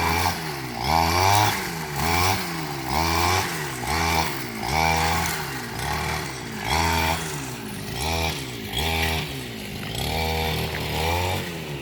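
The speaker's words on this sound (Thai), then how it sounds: "ก็จะตัดหญ้าทำความสะอาดไปก่อน" A grass cutter clears overgrown land ahead of ploughing for a planted field, its small two-stroke engine running loud and close in repeated revving bursts, rising and falling in a steady rhythm throughout.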